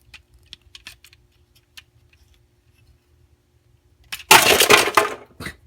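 Cutting a part off inside a desktop pinball machine: a few faint small ticks, then a loud, close crunching burst lasting about a second before it trails off.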